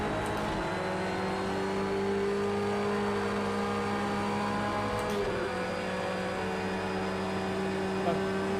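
A race car engine in a sim racing game holds a steady, sustained drone with layered tonal harmonics, close and loud throughout, with a slight dip in pitch partway.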